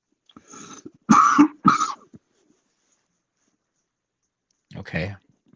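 A few sharp coughs and a throat clear in quick succession, then a pause and one more cough, close to the microphone in a quiet room.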